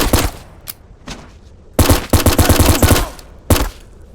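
An Uzi submachine gun fires in a video game, with a few single shots followed by loud rapid bursts of automatic fire and a final short burst.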